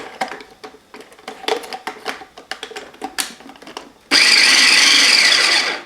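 Food processor for a harvest loaf batter, a run of short choppy pulses and clattering bursts that gives way to a loud steady motor whir for the last couple of seconds, close up, no talking.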